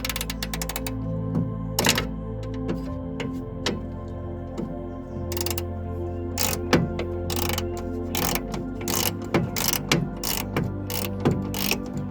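A ratchet wrench clicks in irregular bursts of sharp, close ticks as the last of four bolts is backed out while removing a car radiator, with pauses between the runs and no voices.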